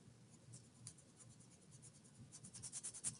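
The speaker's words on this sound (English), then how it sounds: "I'm going to erase this." Soft rubbing strokes of an eraser wiping writing off a board during a lesson on dividing decimals, faint at first and then building into a quicker, louder scrubbing rhythm toward the end.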